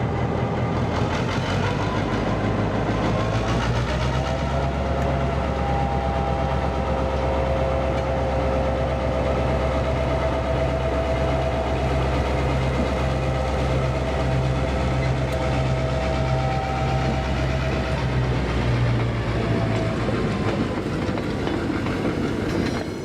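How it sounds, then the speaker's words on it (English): DBR class diesel locomotive 1254 shunting SX class carriages in the Taumaranui rail yard, New Zealand: a loud, steady engine drone with rumbling wheels and faint rhythmic clickety-clack, continuous throughout with no talking. "DBR 1254 was used to reposition a number of SX class carriages stored in the Taumaranui yard"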